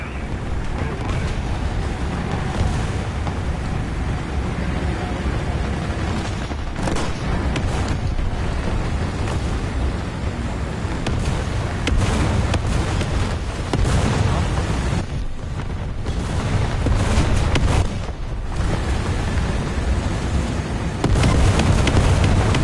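Booming explosions from called-in strikes in War Thunder, a dense run of blasts and crackling bursts over a continuous rumbling battlefield backdrop, with a voice talking intermittently.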